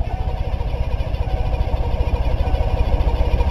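An old engine cranks fast as it is being started, a loud, close, steady rapid chugging rhythm that runs the whole time without catching.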